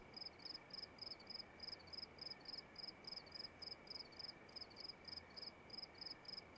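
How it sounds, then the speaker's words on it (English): Nighttime crickets in Russia trill in regular high-pitched bursts, repeating steadily and fairly faint over soft background noise, with no voices present. "And you hear the crickets."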